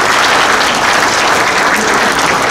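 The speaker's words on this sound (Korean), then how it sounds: "박수 부탁드릴게요" A seminar audience in a Seoul press center conference hall applauds steadily and loudly for a couple of seconds, a dense uninterrupted wash of clapping hands.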